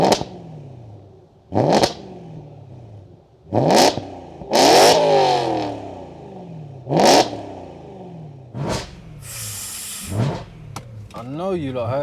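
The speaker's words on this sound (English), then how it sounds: "let's get some exhaust revs" A 449bhp BMW M3 saloon's exhaust is revved repeatedly, about six sharp bursts rising and falling with brief pauses between, loud and close, with hissing and some clatter at the end.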